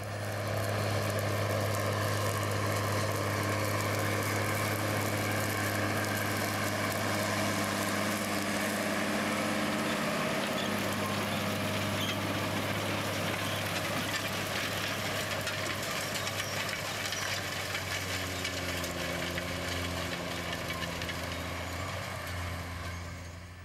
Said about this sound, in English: Power comes from a mighty 450 horsepower, 6-cylinder, 15-litre Cummins engine.